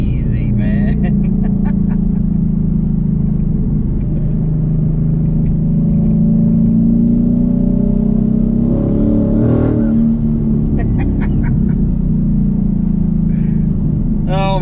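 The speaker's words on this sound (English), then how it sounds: "these are like about half throttle pulls" A 2020 twin-turbo Mustang pulls at about half throttle, its engine a steady, loud low drone that rises in pitch, with turbo whistle noises on top and someone talking over the engine.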